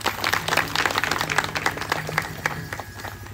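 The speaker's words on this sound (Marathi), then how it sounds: "एकदा सगळ्यांनी मनापासून त्यांच्यासाठी टाळ्या वाजवाव्या." A temple audience applauds at a kirtan event, giving a brief burst of scattered, uneven hand claps close by, with faint voices underneath.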